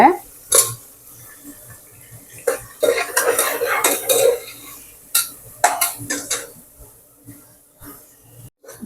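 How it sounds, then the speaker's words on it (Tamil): Rice and lentils roast in ghee in a pan, with close metallic clinks and scrapes from stirring in uneven bursts, separated by quiet gaps. "எண்ணெயிலேயே நம்ம அரிசியும் பருப்பையும் வறுத்துக்கலாம். நல்ல ஒரு மனம் வரும் நெய்யில வறுக்கிறச்ச."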